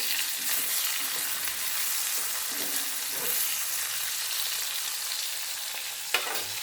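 Green chillies frying in a pan for a home-cooked lunch, with a steady close sizzle running throughout and a brief sharp clink near the end.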